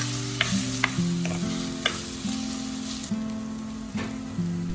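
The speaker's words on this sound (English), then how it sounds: "Saute the onion until crisp and soft." Sliced onion sautéing in a pot with salt, pepper and turmeric for a camel meat curry, a continuous sizzle broken by several spoon scrapes and clanks against the pot, with a low steady hum underneath.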